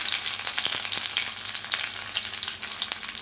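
Urad dal, curry leaves and cumin frying in hot oil, a bright, close sizzle with rapid crackling and a few sharp pops and scrapes, continuous and without talk.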